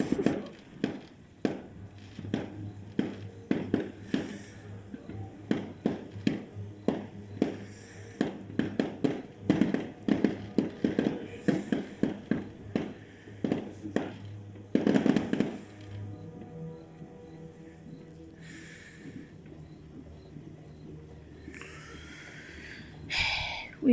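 Neighbours' fireworks go off in a rapid string of sharp cracks and bangs, fairly close, followed by a few scattered later pops against quiet background hum.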